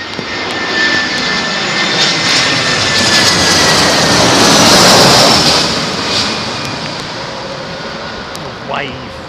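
An ITA Airways airliner lands at London Heathrow runway 27L in stormy weather, its jet engines roaring loud and broad, swelling to a peak midway and easing off, with people chatting nearby.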